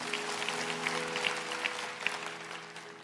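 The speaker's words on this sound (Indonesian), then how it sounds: "Kasih tepuk tangan untuk Tuhan Yesus." Church congregation clapping during a Sunday worship service, a steady mid-level patter of many hands filling the whole stretch with no talk over it.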